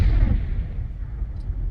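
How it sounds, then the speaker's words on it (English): An old-school World War-style cannon blast sound effect: one loud, deep boom that hits at once and then rolls away into a long, low rumbling decay, heard alone. "which is some like old school kind of World War type cannon sound"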